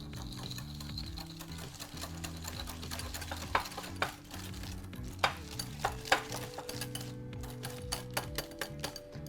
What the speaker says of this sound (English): Give that a nice whisk.